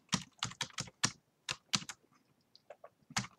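A password is typed on a computer keyboard as a quick burst of close key clicks, a short pause, then a few scattered lighter taps and a final key press, with no talk.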